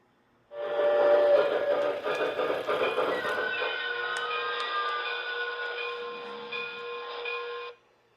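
A model Pennsylvania A5 switcher locomotive in scrappy condition runs jerkily along the track, its close, steady mechanical whine and rumble holding for about seven seconds before cutting off, with no talking.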